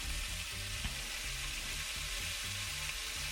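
Vegetables sizzle and crackle in hot oil in a pan, a steady close frying hiss with soft bubbling and a faint stir, with no talking.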